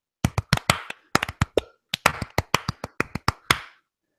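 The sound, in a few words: triplet hand clapping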